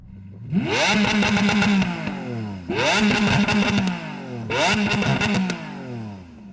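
A Lamborghini Aventador SV engine revs hard through its sports exhaust three times, each sharp rising blip followed by a falling crackle, loud and close with short gaps between.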